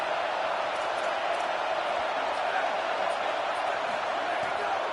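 College football game crowd with Florida State, a dense continuous stadium roar, steady and loud across the whole stretch with no breaks.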